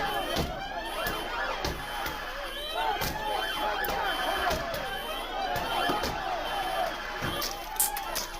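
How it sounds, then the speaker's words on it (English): A crowd smashing and wrecking a police car: repeated sharp bangs and crashing impacts at irregular intervals over a steady roar of crowd noise, with voices chattering throughout. "They're destroying a police car."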